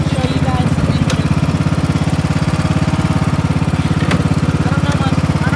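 Craftsman 18.5 OHV riding lawn mower engine running steadily, a loud, close, even low putter with a fast regular pulse and no change in speed, with no talk over it.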